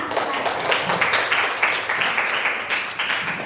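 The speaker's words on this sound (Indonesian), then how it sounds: "Ya, bagus. Tepuk tangan." Schoolchildren in a ninth-grade civics class give a round of applause, a moderately quiet, rhythmic group clap with regular pulses that goes on for a few seconds.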